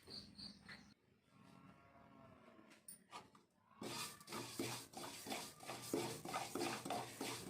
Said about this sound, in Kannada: ನಂತರ ಅದೇ ಬಾಣಲಿಗೆ ನಾವು ತೆಗೆದುಕೊಂಡಿರೋ 5 ಸ್ಪೂನ್ ಬಿಳಿ ಎಳ್ಳು ಹಾಕಿ ಹುರ್ಕೊಬೇಕು